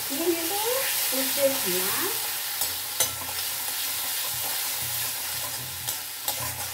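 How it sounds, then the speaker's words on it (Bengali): Cumin, ginger and green chili paste sautés in a pan with a soft, continuous sizzle while a spoon stirs it, scraping and tapping against the metal. Someone speaks briefly at the start. "দিয়ে একটু নাড়াচাড়া করে জাস্ট কষিয়ে নেব।"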